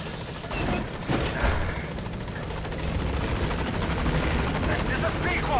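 Pequod, the helicopter in Metal Gear Solid V: The Phantom Pain, arriving at a landing zone: a steady, loud rotor roar runs throughout, mixed with game effects and voices talking over it.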